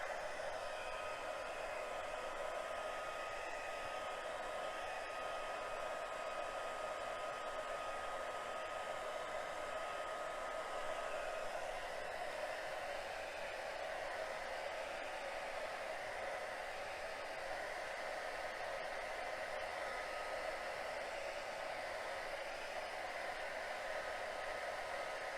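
A blow dryer drying watercolor paint runs steadily for the whole stretch, a continuous close airy whir with no pauses and no voices.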